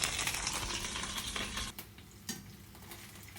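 Steak fillet frying on a bed of herbs in very hot oil in a pan, a close, dense sizzle that drops suddenly in loudness partway through, leaving a softer crackle with a brief stir or clink.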